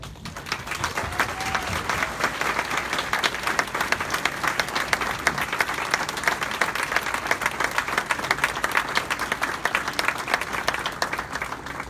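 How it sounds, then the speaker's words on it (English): Steady applause from an audience at an evening awards ceremony honoring past top teachers, a dense, even wash of clapping held at moderate loudness for about twelve seconds. "let's give them a round of applause"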